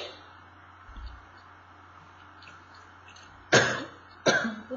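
A person with an inflamed sore throat gives two sharp, loud coughs near the end, after a quiet stretch with a faint thump.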